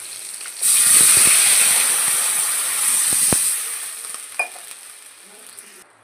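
Water poured into hot mustard oil with fried fish in a pan sets off a loud, hissing sizzle. The sizzle starts suddenly, then slowly dies down, with scattered pops and clinks of a utensil toward the end.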